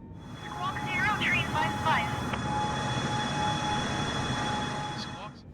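A Boeing 747 Shuttle Carrier Aircraft climbs in Microsoft Flight Simulator, its jet engines holding a steady, even roar with a thin whine throughout and a few brief chirpy sounds early on.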